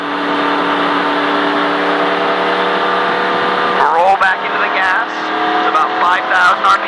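NASCAR race car engine in a racing video game, holding a steady high-RPM drone that shifts into revving and gear changes near the end, with speech over it.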